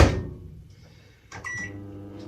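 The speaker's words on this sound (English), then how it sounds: "then put it in the microwave, blitz it" A microwave oven melting chocolate pieces hums faintly after a loud opening thump, then a door or latch clatters with a brief tonal ring, close by and with no talk.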